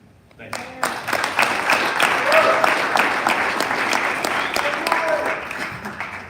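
Audience applause at a Summit County council candidates meeting, a sustained burst of many hands clapping that swells quickly and holds steady, filling the room.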